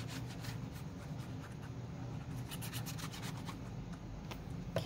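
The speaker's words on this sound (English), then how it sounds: "I'm going to put my glue again on my flap." Glue being applied to the paper flap of a stack of index cards, heard as a faint, steady dry rubbing and scratching that continues without pause, with no talking.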